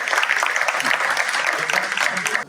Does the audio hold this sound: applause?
yes